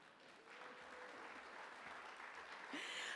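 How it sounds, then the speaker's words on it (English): Faint, distant applause from a faculty gathering audience, a steady wash of clapping heard from afar with a brief louder burst near the end. "Give him a round of applause."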